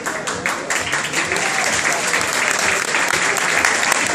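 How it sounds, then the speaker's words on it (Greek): Sustained, dense applause from a crowd welcoming home a bronze Paralympic medalist, loud and close throughout the whole stretch. "Τα χειροκροτήματα είναι για το χάλκινο παραολυμπιονίκη μας"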